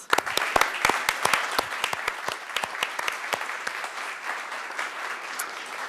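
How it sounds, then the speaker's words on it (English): Employees receive a round of applause at a city council meeting, with sharp individual claps standing out at first before settling into steady, dense clapping from a seated audience that carries on for several seconds. "So we'll give 5 years a round of applause."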